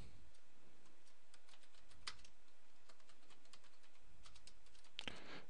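A title is typed on a computer keyboard, with quick, close key clicks in irregular bursts over a quiet room and a louder keystroke near the end.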